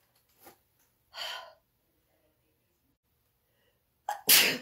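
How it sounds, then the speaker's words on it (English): A single loud, sharp sneeze from someone with a cold, near the end, preceded by a couple of quieter sniffs and breaths in an otherwise quiet room. "I'm going to sneeze."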